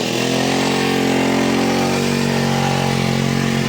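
Motorcycle engine labouring uphill on a steep mountain road near Darjeeling, a loud, steady, continuous drone with no pauses.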